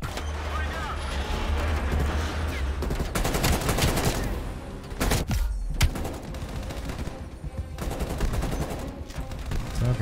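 Dense bursts of automatic gunfire and loud shots in Call of Duty Black Ops Cold War crackle close by in rapid volleys, with pauses between them and speech mixed in.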